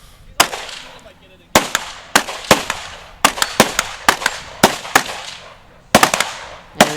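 Rifle shots ring out at a 3-gun shooting competition, about a dozen sharp loud cracks in an irregular string with brief echoing tails, some fired in quick pairs.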